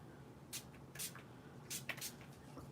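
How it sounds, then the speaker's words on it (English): Several short hissing bursts of shimmer spray misted onto a handmade explosion card, spaced irregularly with quiet rustling between them, close and fairly soft. "let's do our shimmer spray"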